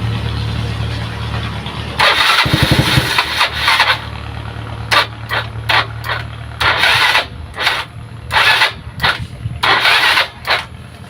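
A motorcycle with a weak, often-drained battery and suspected regulator or stator trouble cranks over and over. Loud, close bursts of starter whirring are split by short pauses, and the engine never catches.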